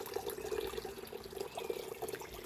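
Backyard water feature trickling steadily on a quiet morning, a soft continuous burble of running water that stays faint and even throughout, with no voices.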